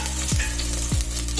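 Onion, green chilli, garlic and cumin sizzle in hot oil after mustard seeds pop, a loud, close, continuous crackle with a couple of spoon scrapes.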